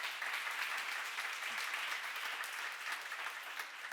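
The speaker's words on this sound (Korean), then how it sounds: "여러분 정말 좋은 때 태어난 걸 감사의 박수 한번 치세요." Seminar audience in a lecture hall clapping together in thanks, a continuous, even burst of many hands applauding at moderate volume throughout, with no voices over it.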